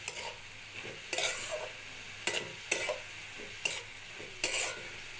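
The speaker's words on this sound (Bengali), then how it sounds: "এবার আমি শাকের মধ্যে মিলিয়ে দেবো ভেজে রাখা আলু আর বেগুনটা" A spoon stirs fried potato and eggplant into cooked helencha greens in a pan. There are six distinct scraping strokes at an irregular pace over a soft sizzle, with no talk.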